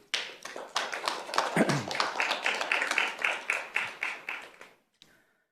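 An audience claps in a steady rhythm at a school governing board meeting during public comment. The claps swell in repeated pulses for about five seconds, then stop abruptly, leaving near silence.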